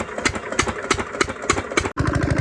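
Engine running nonstop to pump water into a paddy field, a steady rapid chugging pulse close by, with a brief cut near the end before the same throbbing beat resumes.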